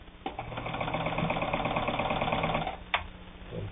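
Necchi Supernova Ultra, an Italian-made sewing machine, runs steadily for about three seconds with a mechanical whir and rapid needle clatter, then stops with a click.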